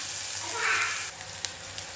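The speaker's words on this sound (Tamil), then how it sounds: "இப்போ இந்த எண்ணெயில் நல்லா வெங்காயம் வதங்கட்டும்." Onions fry in oil for a dried-fish thokku, making a soft, steady sizzle close by, with a small clink of a utensil near the end.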